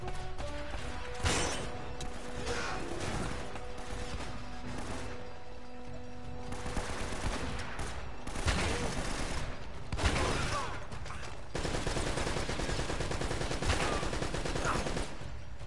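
Mounted gun fire in the action video game Uncharted: Drake's Fortune, with dense bursts of gunshots and crashes running throughout over a noisy battle backdrop.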